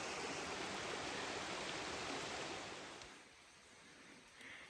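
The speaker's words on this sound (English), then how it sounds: "So streams are flowing well." A mountain stream rushes on the Appalachian Trail, a loud continuous watery roar that eases off after about three seconds to a softer flow, with no voices.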